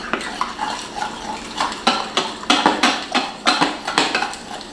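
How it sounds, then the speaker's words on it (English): Brownie batter made with almond flour being stirred in a bowl, with repeated scraping clinks of a utensil against the bowl in a steady, fairly close rhythm, no talking. "Okay, so I stir this around."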